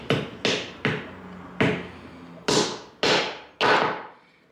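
An old bamboo tea whisk is chopped and split, giving seven sharp, close cracking blows at a steady pace, each ringing out briefly before the next.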